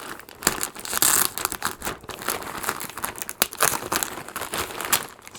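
Loud, close crinkling and rustling of a plastic bag being handled and pulled open, in irregular bursts with sharp crackles.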